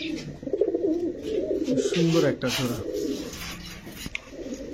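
Old-breed red plain pigeons at a pigeon market coo in low, rolling calls close by, mixed with someone talking over them.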